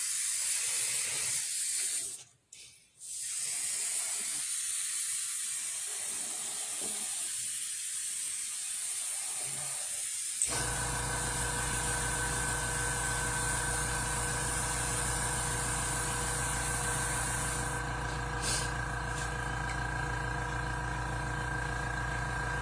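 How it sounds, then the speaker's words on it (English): Compressed air hisses steadily while spraying onto a thin foam latex hand appliance, a loud continuous blast that starts abruptly partway through and holds unbroken, after softer intermittent spurts. "I'm using the air pressure to force it down, to keep it down when I'm spraying."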